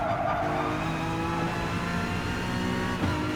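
Group 4 race car in GT Sport braking hard, steady loud engine drone dropping in pitch with faint tire noise and a short squeal near the end, close and continuous.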